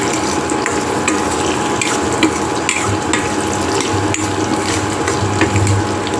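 Chopped garlic and green chillies frying in a pan, stirred with a spatula that scrapes and clicks rhythmically over a continuous loud sizzle, close and with no talk.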